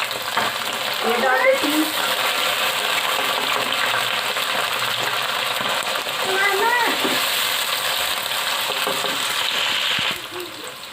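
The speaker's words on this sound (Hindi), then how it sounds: "गोश्त और प्याज अच्छी तरह से फ्राई हो रहे हैं।" Boiled beef and onions fry toward golden in a pan, a steady close sizzle running the whole time with a few stirring clinks, while someone speaks briefly over it.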